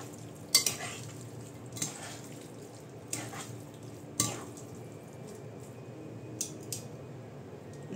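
Beef steak being stirred in a frying pan, with faint background sizzle and several sharp scrapes and clinks of the utensil against the pan at irregular intervals.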